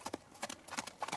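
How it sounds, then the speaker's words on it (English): Horses pulling a carriage along a dirt forest road, hooves clip-clopping in a quick, rhythmic gallop, close and moderately soft as a steady background pattern. "the horses are off, galloping through the forest"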